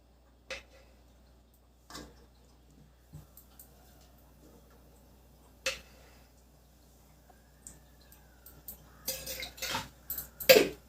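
Metal pressure cooker set on a gas stove before three spoons of oil are added for boti curry, heard as sparse clinks and knocks at close range, growing into a busier run of clatter toward the end.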